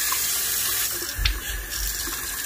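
Water gushes steadily from a kitchen sink tap after a rusted pipe under the sink was replaced, a constant splashing rush into the basin with a brief thump partway through.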